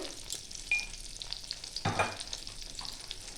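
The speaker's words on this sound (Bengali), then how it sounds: "টমেটোটা নরম হয়ে গেছে, এবার দিয়ে দেবো একটু জিরে গুঁড়ো" Softened tomato frying in a pan for a yam curry with cumin powder being added, a faint crackling sizzle broken by a few sharp utensil scrapes and clinks, quiet and without talk.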